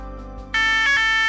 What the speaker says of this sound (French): Ceci est l'alarme d'évacuation générale.